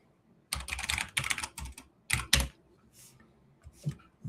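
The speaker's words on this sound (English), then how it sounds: "That's the sound of a mechanical keyboard." Bursts of close typing on a mechanical keyboard, clusters of sharp, clacky keystrokes separated by short pauses, then a few scattered taps toward the end.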